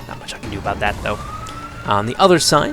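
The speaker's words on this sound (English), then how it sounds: "Sorry if you can hear that siren going off in the background there." A siren wails faintly in the distance, nearly buried under someone talking close to the microphone.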